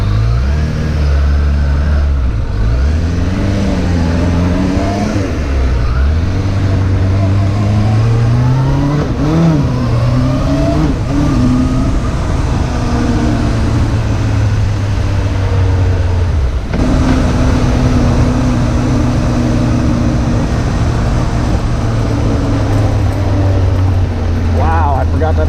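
Engine of a Suzuki GSF600 motorcycle on a ride, a loud steady drone that rises and falls in pitch with revs and gear changes, with rushing wind throughout and a voice talking over it.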